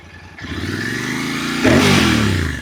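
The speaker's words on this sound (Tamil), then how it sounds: "எக்ஸாஸ்ட் வந்து கொஞ்சம் ரீட்யூன் பண்ணி தான் கொண்டு வந்திருக்காங்க கொஞ்சம் லவுடாக தான் இருக்குது" Royal Enfield motorcycle with a retuned, louder exhaust revving hard nearby, a throaty engine note rising in pitch and swelling louder in its second half, heard alone.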